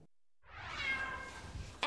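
A single cat meows once, close and clear, inside an apartment where around fifty cats were being removed, ending abruptly.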